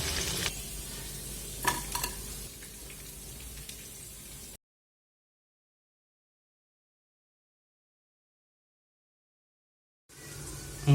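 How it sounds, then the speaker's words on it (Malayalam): Kerala-style chicken sizzles as it fries in a pan, a steady close crackle that cuts out into a long silence before briefly returning. "ഫ്രൈ ആയിക്കൊണ്ടിരിക്കുകയാണ് ചിക്കൻ."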